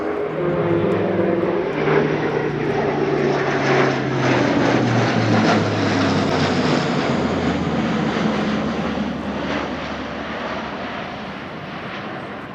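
A German Air Force Airbus A400M Atlas four-engine turboprop accelerates through a fast low display pass, a loud continuous propeller drone with a droning engine tone that shifts pitch as it passes, easing slightly toward the end.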